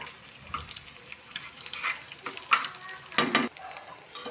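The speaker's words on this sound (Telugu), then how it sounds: "ఇది కొంచెం బ్రౌన్ కలర్ వరకు ఫ్రై అయ్యేంత వరకు దీన్ని వేయించుకోవాలి" Frying in a pan for egg rice, a low crackling sizzle with spatula scrapes and clinks against the metal, close and moderately loud, no talking.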